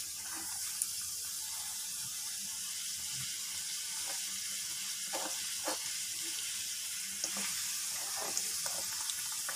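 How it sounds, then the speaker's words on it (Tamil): Beetroot and semolina poori frying in hot oil, a soft continuous bubbling hiss with a few faint pops and scrapes, fairly quiet and without voices. "பூரி நல்லா உப்பி வந்துடுச்சு இது நல்லா வேகணும் ரெண்டு சைடும்"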